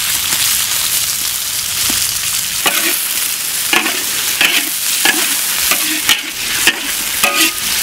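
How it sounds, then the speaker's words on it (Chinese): Sliced meat, cucumber and carrot sizzle in a wok under a steady frying hiss, with repeated scraping strokes of a spatula stirring the food. The spatula strokes grow sharper and more frequent toward the end. "稍微炒几下"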